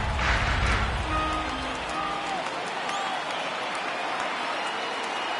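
Stadium crowd roaring and cheering during a Yankees game in MLB The Show on PS4, a loud sustained wash of noise that swells early and then holds steady, with commentary voices over it.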